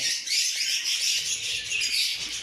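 A lutino and albino pet bird pair in a nest box give continuous high chirps and squawky calls, close and fairly loud, with no speech.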